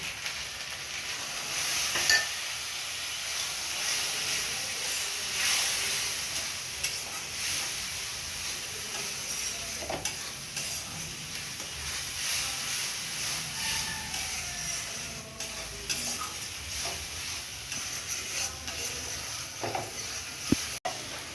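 Masala sizzling in a pan for an egg and potato curry after a little water goes in, a long steady hiss with soft stirring scrapes and a few sharp clinks, close and moderate.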